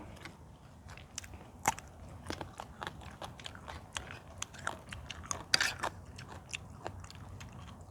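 Close chewing of rice mixed with boiled egg, a run of soft wet bites and crunches in an irregular rhythm, fairly quiet and with no talk.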